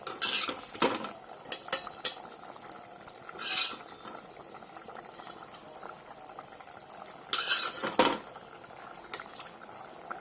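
Pieces of bata fish are dropped one by one into a boiling curry, with bubbling and stirring under intermittent louder splashes and clatters near 1, 3.5 and 8 seconds.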